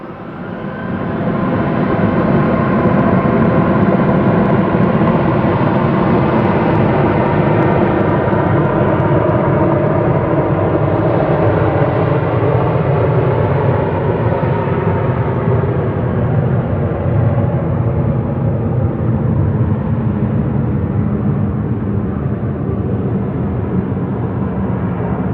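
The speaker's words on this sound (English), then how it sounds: "And that will be Air France off to Paris, the Wookie A220." An Air France Airbus A220 jet departing Manchester Airport for Paris, a loud continuous engine roar rising in quickly and holding strong, with a deep rumble and shifting whine as it climbs away.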